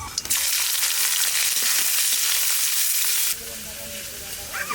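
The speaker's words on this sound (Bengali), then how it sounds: "এইবার দিয়ে দেবো পেঁয়াজ।" Onions drop into hot oil already seasoned with cumin, bay leaf and dried chilli, giving a loud, steady broadband sizzle that drops abruptly in intensity partway through and keeps crackling more quietly. A faint voice rises near the end.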